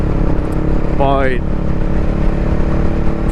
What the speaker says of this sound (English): I hope you could hear the sound of this Two Brothers exhaust